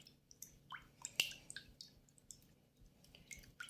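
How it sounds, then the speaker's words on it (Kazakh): Beaten egg and liquid oil are stirred together in a bowl, giving faint, irregular wet squishes and small clicks that come in uneven bursts in a quiet room. "Сұйық майымызды құйып, енді осыны кішкене жұмыртқасы езілгенше жақсылап араластырып аламыз"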